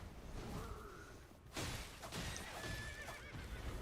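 A horse whinnies loudly in the video game Elden Ring: Nightreign with a drawn-out, shaky neigh, followed by hoof clops and a soft thump, set against a steady rushing background.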